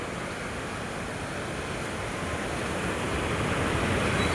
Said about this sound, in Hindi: बहाव कितनी तेज़ है।